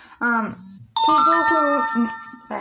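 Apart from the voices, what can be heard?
mobile phone ringing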